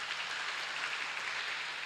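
A congregation applauds during an online church service, a steady, even wash of many hands clapping. It is moderately loud and continuous, with no voices over it.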